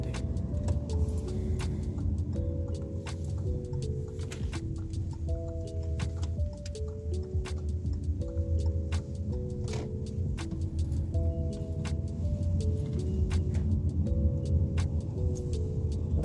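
A car on UK roads drives along with a steady low engine and road rumble throughout, while a repeating ticking like an indicator clicks and a melodic chime pattern plays over it.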